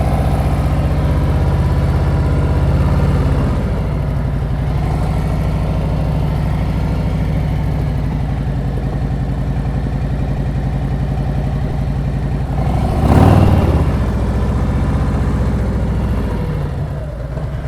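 A motorcycle engine runs steadily at low revs during slow-speed riding practice on a hill in Ohio, a continuous close idle-like drone with one brief surge of throttle near the end.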